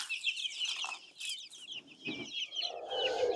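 Australorp chicks cheep in a steady, high-pitched chorus nearby at a quiet level, with a few softer, lower clucks mixed in.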